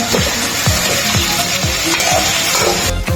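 Tomatoes added to garlic frying for chicken gravy sizzle loudly and steadily in the pan, with a repeating scrape of a spoon stirring about every half second, close by and without talk.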